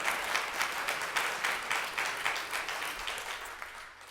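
Congregation applause at an Erev Yom Kippur service, a steady, moderately distant wash of many hands clapping in a rhythmic pulse, fading slightly toward the end.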